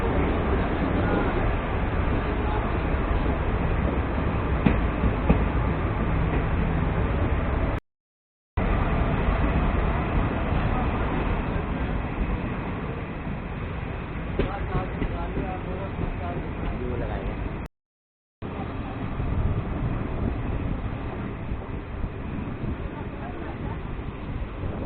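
Mussoorie Express train rumbling through a tunnel after leaving Haridwar, a loud continuous roar and rattle from inside the carriage with two brief dropouts, a voice talking over part of it.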